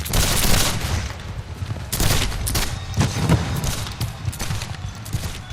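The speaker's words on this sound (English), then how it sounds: "Union gunners fire point blank." Cannon and musket gunfire rolls through a Civil War battle scene at Gettysburg, a dense, continuous fusillade of overlapping shots and booms, loud and sustained throughout without pause.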